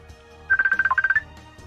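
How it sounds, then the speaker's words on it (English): A mobile phone ringtone chirps out a fast run of about a dozen bright electronic beeps, loud and close, over quiet room tone during a tabletop game session. "No, that was my phone, sorry."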